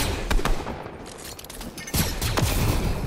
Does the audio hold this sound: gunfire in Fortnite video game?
yes